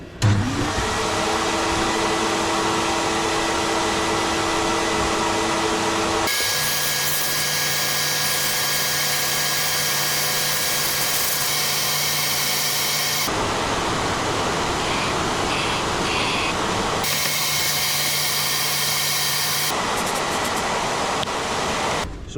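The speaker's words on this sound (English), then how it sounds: "We'll give that a sand." Steady, loud abrasive whoosh of sandpaper against a spinning wood-turned Grinch snowman candle holder on a lathe, a continuous drone that shifts in tone as pressure and position change, with no talking.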